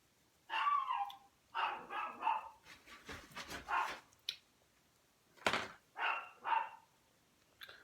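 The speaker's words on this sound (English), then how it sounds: "Dogs are barking." Dogs bark indoors in a series of sharp, fairly faint barks in two clusters separated by a short pause, with no talking.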